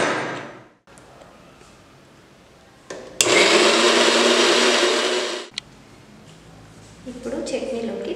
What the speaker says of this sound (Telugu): తగినన్ని వాటర్ యాడ్ చేసుకొని మెత్తగా గ్రైండ్ చేసుకోవాలి.